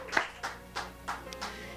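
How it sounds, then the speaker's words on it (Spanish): Slow, rhythmic clapping comes from a church congregation, about five distinct claps in under two seconds, fairly quiet and close. "Denle ese aplauso al Rey de Reyes y al Señor de Señores."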